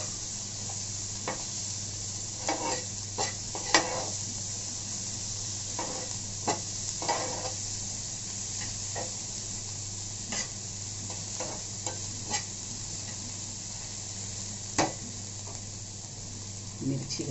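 Onion frying with cumin seeds in a pan gives a soft, steady sizzle punctuated by stirring scrapes and small pops, with a voice speaking at times.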